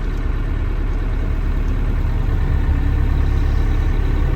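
Engine of a 1986 GMC Astro COE truck running at a steady, loud, low rumble throughout, its wheels spinning out with only the rear axle working.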